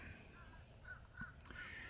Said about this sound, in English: there are crows flying further away